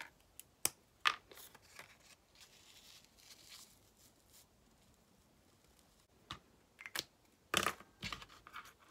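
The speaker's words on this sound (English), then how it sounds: "you're going to cut just the backing on this faux fur, not the fur." Scissors snip through the backing of faux fur for a no-sew woodland flannel gnome ornament, heard as scattered sharp close cuts in short bursts separated by quiet gaps.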